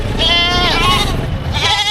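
A young goat that has not yet given birth bleats loudly and close by at a livestock market, a wavering, nasal cry that rises and falls.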